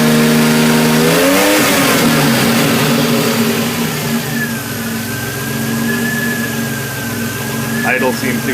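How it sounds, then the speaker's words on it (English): DeLorean engine, seen during an engine bay tour, given a short blip of throttle that rises and then falls back to a steady idle, loud and close, with a faint whine over the idle. "I'm going to go ahead and give it a little gas here and see what the reaction of the engine is."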